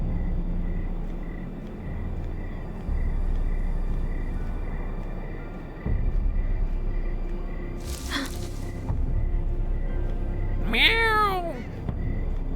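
A cat in a Game of Thrones video game meows twice, first a short, rough call and then a longer, clear rising-and-falling meow, over a low rumbling game background.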